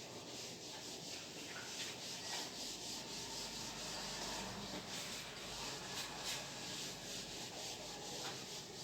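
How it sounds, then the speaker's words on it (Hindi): A classroom board being rubbed clean, a continuous close scrubbing and swishing texture with a steady, even rhythm, heard alone without talk. "पहले इसको एक बार रब कर लेता हूँ"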